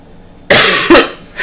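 Two harsh coughs close by, the first a sudden loud burst and the second following right after, then a softer breathy sound.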